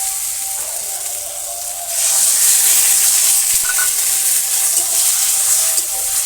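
Water poured into a pan of fried cauliflower and potatoes in a village kitchen, a loud steady hiss and sizzle that swells partway through and continues without pause.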